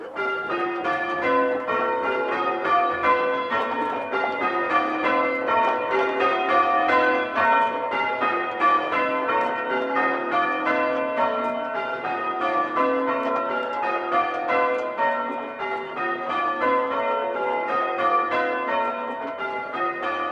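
Church bells ring out in a rapid, continuous peal at a village church, overlapping strokes clanging steadily and fairly loud for about twenty seconds with no talking.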